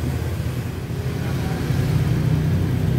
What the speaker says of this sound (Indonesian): Oke, kita nyalakan motornya.